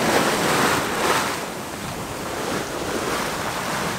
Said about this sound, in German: Erst seit heute haben wir so richtig Welle bekommen.